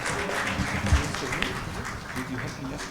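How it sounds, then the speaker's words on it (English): An audience at a FOGCE 2023 medical conference session applauds, a brief patter of clapping under a speaker's voice in a hall. "Can we all give a round of applause?"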